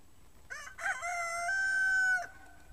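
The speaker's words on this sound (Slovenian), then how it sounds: "Petelinče, kokoši, račke, kuža." A rooster crows a long, clear cock-a-doodle-doo close by on a farm, lasting about two seconds with rising and sustained tones, with no other sound around it.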